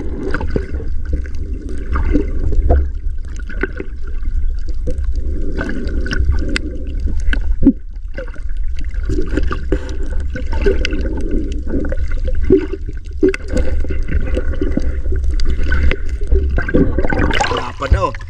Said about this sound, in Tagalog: Tsaka medyo mahangin mga idol, magalaw yung tubig ngayon.